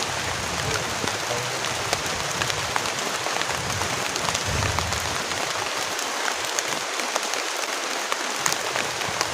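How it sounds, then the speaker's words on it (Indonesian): Heavy rain pours down at a camping spot as a tent is pitched, a dense, constant patter with scattered sharp drop hits and no voices. "karena hujannya deras banget"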